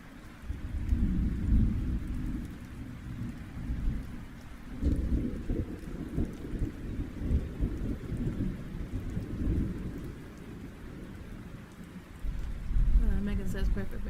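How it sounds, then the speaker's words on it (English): Rain and thunder sound effects play during a reading sprint livestream, with steady rainfall and deep rolling thunder swelling several times across the stretch, fairly loud and continuous. "Are you wanting rain and thunder sounds, Megan?"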